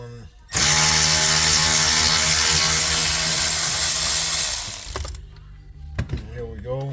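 A ratchet tool works loose a dashboard bolt in a tight space inside a Range Rover Sport HSE. It runs as one loud, steady mechanical whir for about four and a half seconds, then stops, leaving faint clicks and handling noises.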